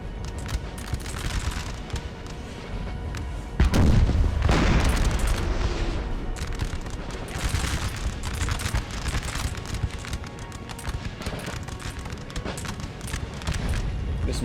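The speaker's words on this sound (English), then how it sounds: "Some skirmishes here, light company firing in." Musket and artillery fire in the Napoleonic battle game Napoleon Total War, a dense continuous roar of volleys with a heavy booming blast early on, loud throughout.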